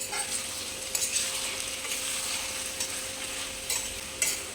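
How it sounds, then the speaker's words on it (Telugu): Bottle gourd curry with green chilli paste sizzles in a covered pan while a utensil stirs it, making soft scraping strokes and a few sharper clinks over a steady frying hiss, close up and with no talking. "ఒకసారి చూసుకొని ఇలా మధ్య మధ్యలో కలుపుకుందామండి"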